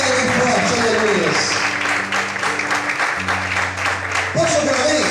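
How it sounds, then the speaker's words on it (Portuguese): Loud, dense applause from a church congregation at an evening service, continuous clapping over held keyboard chords, with a voice briefly rising above it. "Aplauda Ele bem forte, aleluia!"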